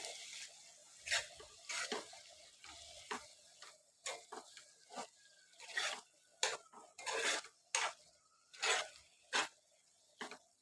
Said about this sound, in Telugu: ఇప్పుడు ఒకసారి అంతా మంచిగా మిక్స్ చేసుకుందాము